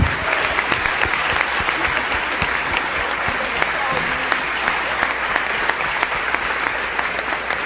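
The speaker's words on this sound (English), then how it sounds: "please give a round of applause for Talib Kweli" An audience at a hip-hop symposium at Princeton applauds Talib Kweli, sustained clapping with sharp individual claps standing out, and voices talking underneath.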